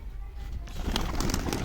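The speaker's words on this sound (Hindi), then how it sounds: "तो सारे कबूतर निकालो यार, सारे अंदर बैठे उनको निकालो" Pet pigeons kept in a loft cooing close by, low throaty coos with soft rustling and a few sharp clicks as the birds stir, fairly loud and continuous.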